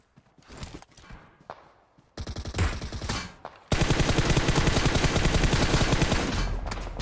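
Gunfire in an online multiplayer shooter match: scattered single shots and short bursts, then a sustained loud automatic rattle that continues to the end, with no talking.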